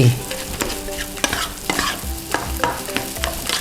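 Rice stir-fried in a hot pan with scrambled egg and bacon, sizzling steadily while a utensil scrapes and knocks against the pan in irregular strokes, close and loud, with no voices.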